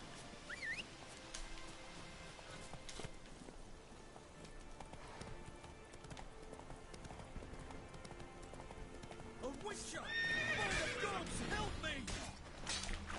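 Geralt's horse Roach in The Witcher 3 clops along with soft hooves under game ambience, then gives a loud whinnying neigh near the end.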